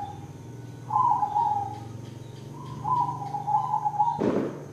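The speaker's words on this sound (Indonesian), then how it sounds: "Jadi burung perkutut itu bunyi itu" A zebra dove (perkutut) coos in two trilling, warbling phrases over a steady low hum, close and clear, followed by a brief thump at the end.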